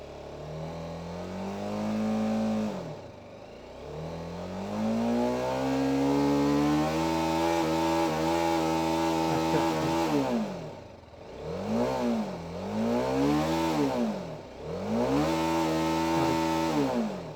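A BMW G 310 RR motorcycle engine is revved up hard several times, rising to a sustained high whine and then dropping back between repeated throttle blips, loud and close with no talk.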